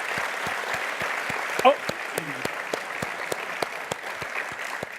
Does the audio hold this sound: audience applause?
yes